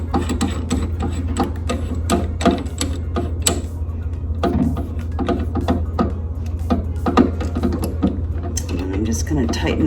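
A 16 mm drill bit being tightened in a drill chuck gives a run of close ratcheting clicks and mechanical clatter over a steady low hum, with quiet talk underneath.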